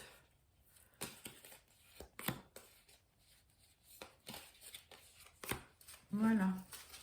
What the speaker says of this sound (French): Je coupe et je prends 3 cartes.